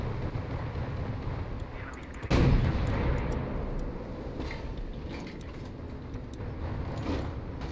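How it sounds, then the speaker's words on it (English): Naval gunfire in War Thunder: a single heavy ship's gun blast booms out mid-clip, then rumbles away under steady low engine and sea noise. "Guys, fire a shot anyways."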